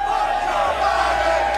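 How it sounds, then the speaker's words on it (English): A large crowd chanting in unison at a car race, a loud, dense roar of many voices that carries steadily through the whole moment. "As you can hear the chants from the crowd"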